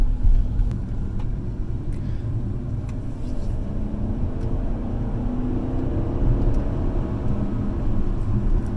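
A Chrysler 300C with a 5.7L HEMI V8 running on E85 ethanol fuel, heard from inside as a steady low engine and road rumble while driving, even and continuous with no talk.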